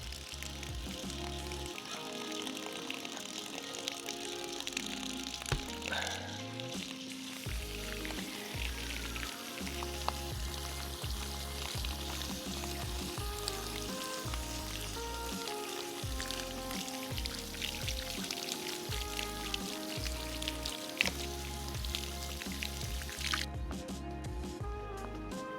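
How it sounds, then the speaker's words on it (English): A garden hose sprays water onto a disc to wash off dye and shaving cream, giving a continuous close hiss and spatter with irregular dripping and splashing patterns shifting throughout. "I'm gonna go out to the hose now and hose this off"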